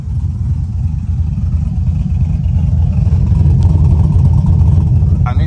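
A cammed V8 fitted with ricer mufflers rumbles loudly and steadily with a deep, choppy low-end burble, rising slightly in intensity toward the end.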